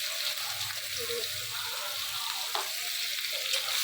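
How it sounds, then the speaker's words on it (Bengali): Onion tossed into hot oil for biryani, giving a loud, continuous frying sizzle with occasional stirring scrapes, while a voice speaks quietly underneath. "এই যে পেঁয়াজ দিয়ে দিলাম"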